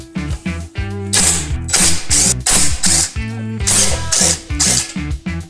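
A hand ratchet clicks loudly and up close as it loosens bolts on the blower housing of a go-kart engine, in rapid bursts of ratcheting separated by short pauses.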